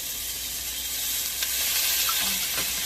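Cooking wine poured into a hot frying pan sets off a steady, loud sizzle and hiss that carries on without a break, with a few faint clinks of a utensil stirring underneath.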